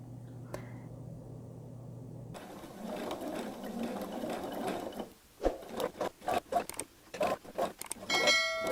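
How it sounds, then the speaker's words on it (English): A sewing machine stitches fabric strips together for a quilt, running in a steady close hum and then breaking into short start-stop bursts as the fabric is guided. "So we start sewing."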